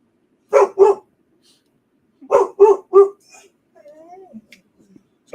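A dog barks in two bursts, a pair then a triple, moderately close in a quiet room, with soft human murmuring in between.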